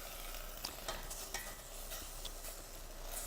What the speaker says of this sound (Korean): 2스푼 넉넉하게 넣고 살살 좀 저어주세요